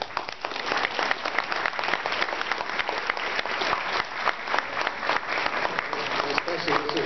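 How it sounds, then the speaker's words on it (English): A church audience gives a long, sustained round of clapping for the day's entertainers, dense and steady throughout without letting up. "how about another big round of applause for all our entertainers today?"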